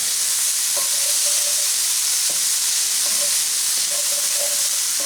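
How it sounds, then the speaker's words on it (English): Corned beef hash with garlic and onions simmers in a pan, giving a steady close sizzle and hiss with a few faint stirring scrapes, no talking. "I'll just give it a second to simmer there."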